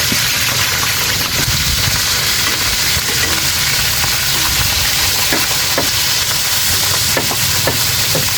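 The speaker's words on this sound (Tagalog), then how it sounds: "Naririnig na yung tunog ng prito." Steady crackling sizzle of food frying in hot oil in a wok, loud and continuous, with a low hum underneath and occasional sharper pops.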